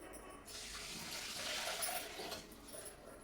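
Water pours steadily into a metal pot at home in a continuous splashing gush that swells midway and tapers slightly toward the end, close and fairly loud, with no talk over it.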